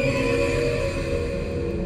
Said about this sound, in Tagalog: parang ungol ito ng kabayo